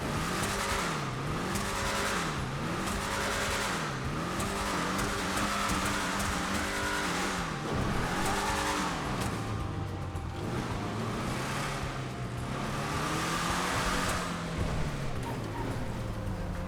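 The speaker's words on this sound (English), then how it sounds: "We're gonna do a sound test and a full review on the car" Declasse Tornado Rat-Rod in GTA Online, engine revved repeatedly, rising and falling in a series of throaty surges, loud and close with no talking.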